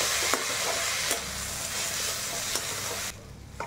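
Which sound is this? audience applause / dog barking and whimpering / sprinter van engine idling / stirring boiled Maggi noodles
stirring boiled Maggi noodles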